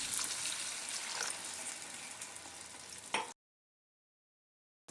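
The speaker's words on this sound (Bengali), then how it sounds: "এবার আমি এর মধ্যে দিয়ে দেব জল।" Water poured into a pan of sizzling cauliflower and potato curry gives a loud hissing, bubbling sizzle that holds steady for about three seconds, then cuts off abruptly into silence.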